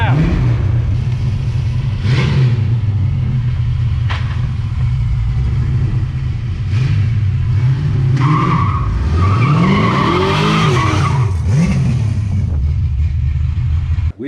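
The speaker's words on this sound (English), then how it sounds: "we gotta celebrate properly by doing a burnout" A 1967 Ford Mustang does a burnout, its loud engine roaring and revving continuously while the tires squeal and skid throughout, rising and falling in pitch with repeated bursts of throttle.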